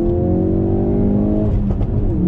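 A 350-horsepower Ford Focus RS Mk3 engine revs and accelerates steadily, heard from inside, with a throaty rising drone and a brief shift near the end.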